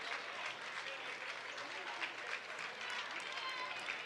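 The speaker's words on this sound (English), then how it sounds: "And a round of applause for the starters." Crowd applause at a high school boys basketball game as the starters head to the bench, steady and fairly distant clapping filling the gym, with an announcer talking over it.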